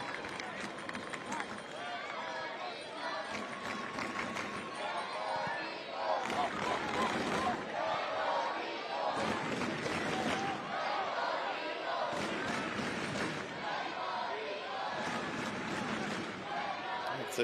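Football stadium crowd at an Aruba versus Puerto Rico Concacaf Nations League match, rising in repeated swelling surges of cheering and roar after a shot goes wide, a dense continuous wash of voices throughout.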